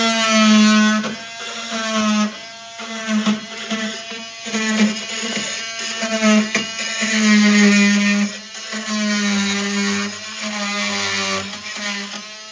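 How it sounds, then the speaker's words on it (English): Fin tool trimming wooden toothpicks on the hull planking of a 1947 Chris Craft S 25 Sportsman boat, a close, high-pitched whirring grind in repeated bursts with short pauses between passes. "So I take the fin tool here and I'll start right here."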